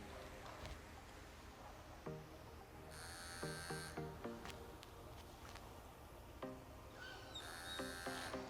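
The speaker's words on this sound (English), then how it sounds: "And now I'm just going to simply turn the trimmer on and off" Pet grooming trimmer switched on and off repeatedly near a puppy, short bursts of bright electric buzzing separated by pauses, faint, with soft handling noises between.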